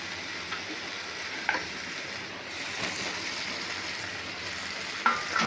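Potatoes frying in cooked spice masala for a Bengali egg curry: a steady, soft, continuous sizzle heard close, with a few faint clicks and clatters of stirring and no talk.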